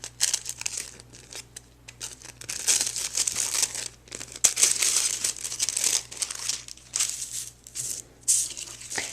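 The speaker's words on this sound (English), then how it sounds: "I'm going to remove those from the die, and I'm going to go ahead and unfold them." Die-cut tissue paper is pulled from the die and unfolded, making continuous loud crinkling and rustling with brief tearing-like bursts close by.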